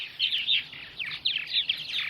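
Purple martins call in the evening at a colony in Center Moriches, Long Island, New York, a series of bright, gurgling chirps and twittering notes at moderate distance, fairly faint.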